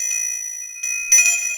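A notification bell chime rings out in a few bright, sustained metallic tones, clean and alone, with a second brighter strike near the end.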